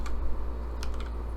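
Keystrokes on a computer keyboard, a short burst of typing while entering an RGB color value, with a few soft clicks under a steady low background hum.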